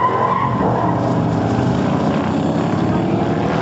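Two Cobra cars roar side by side at the launch of a drag race, a loud, dense, continuous engine blare that fills the whole moment with no talk.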